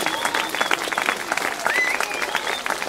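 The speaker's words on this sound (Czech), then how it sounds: "Zatleskejte Drsoňovi!" Dense, sustained applause from a show audience watching a clown performance, with scattered cheers and whistles rising over the steady clapping.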